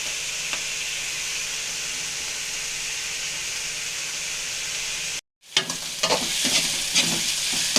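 Onion, green chili, ginger garlic paste and salt fry in a pan for a tomato curry, producing a steady close sizzle that cuts out briefly, then returns with louder crackling and stirring scrapes.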